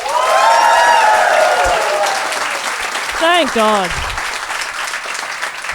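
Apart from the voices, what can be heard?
live comedy show audience applause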